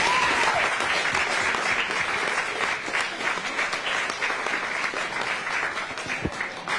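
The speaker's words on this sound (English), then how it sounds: "So a round of applause for our" Sustained applause from a gathered crowd welcoming a group of interns, dense and steady throughout, with no voices rising above it.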